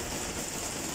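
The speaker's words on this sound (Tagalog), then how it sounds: "lakas ng ulan dito sa amin" Heavy rain pours in strong wind, a steady, dense hiss that fills the whole moment evenly with no breaks and no voices.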